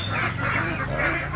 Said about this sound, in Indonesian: di belakang saya itu ada itik pedaging